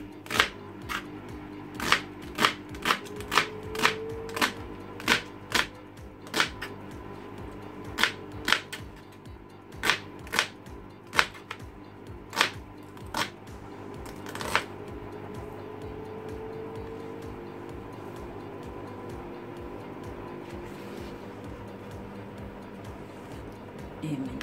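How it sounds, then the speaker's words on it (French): A leek being chopped with a knife on a board, a run of sharp, evenly spaced close knocks that stops partway through, with a person speaking over it. "voilà mon poireau aussi qui est découpé"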